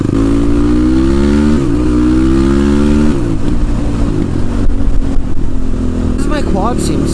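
A street-legal ATV quad's engine drones loud and steady while riding, pitch rising and falling with throttle changes and wind rush, a voice talking over it.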